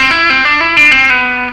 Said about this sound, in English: And from there we're going to slide from C down to B.